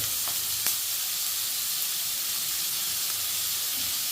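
Onions with a pinch of salt fry in a pan, giving a steady close sizzle with a soft hiss throughout and an occasional faint scrape of stirring, with no talking.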